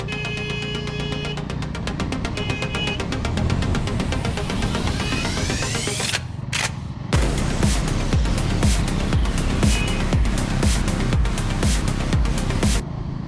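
A Bajaj Dominar 350 motorcycle engine cruising in sixth gear, a steady close-up throbbing drone with rhythmic low pulses and wind noise, briefly dipping before resuming under load.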